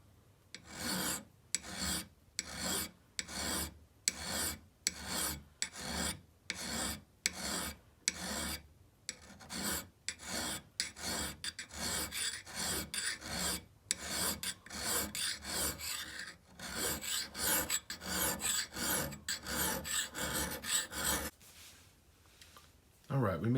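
Steel file rasping along an axe head's cheek and bevel, a close, steady run of rhythmic strokes that speed up into denser scraping before stopping.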